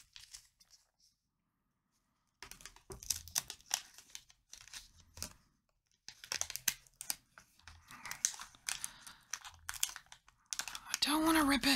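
A wrapped Wizard of Oz playing card pack being carefully opened, with crinkly tearing and rustling of wrapper in bursts after a quiet start, growing denser toward the end, with a voice speaking now and then.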